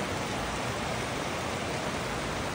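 Steady broadband hiss of rain falling, constant and fairly close, with no voices or other distinct sounds.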